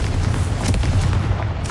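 A Confringo blasting spell explodes in Hogwarts Legacy, giving a loud, sustained, rumbling boom that fills the whole moment with deep roaring blast noise.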